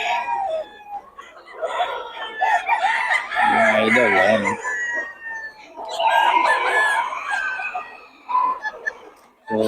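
Gamefowl roosters and chickens cluck and crow repeatedly nearby, loud and overlapping, while someone speaks briefly at the end.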